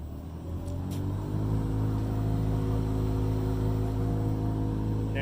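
A Super X 298D seed cleaner spins up to maximum RPM under a variable frequency drive, giving a steady loud mechanical hum and drone with layered tonal whine that rises slightly in the first second and then holds constant.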